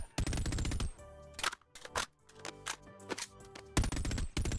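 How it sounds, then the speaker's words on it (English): HK416 rifle fire in the VR game Boneworks: sharp, loud automatic bursts at the start and end, with single shots and mechanical rattles in between. "Here we have the HK416, which has one of the most satisfying gun sounds I've heard so far"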